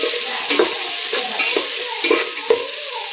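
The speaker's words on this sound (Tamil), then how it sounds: "இது நல்லா கலர் வர அளவுக்கு நல்லா வதங்கட்டும்." Slit green chilies sauté in hot oil in a pan while paneer pulao is being cooked, with a steady sizzle and periodic scraping stirs of a spoon at a close, moderate level.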